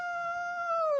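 A voice imitates an elephant trumpeting, making one sustained, nasal, horn-like tone that holds steady and then bends downward at the end. It sounds close and fairly soft.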